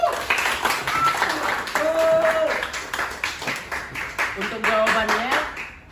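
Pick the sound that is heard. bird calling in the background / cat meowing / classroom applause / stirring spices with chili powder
classroom applause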